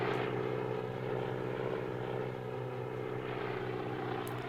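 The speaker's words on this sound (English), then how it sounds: "There's a plane chase." A propeller airplane drones in a film chase scene from the 1959 movie North by Northwest, a steady low engine hum with harmonic tones that swells slightly, alone without talk.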